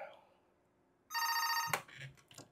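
A phone rings with one loud electronic trill burst, followed by faint voices in a room.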